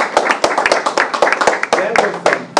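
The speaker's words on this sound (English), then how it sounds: "Give him another round of applause" A small audience claps for a speaker, loose and uneven with individual claps standing out close by, at fairly high volume.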